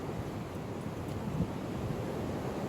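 Wind blows steadily across an exposed fishing spot as a constant, rushing roar that buffets the microphone, with a faint wash like water or waves underneath.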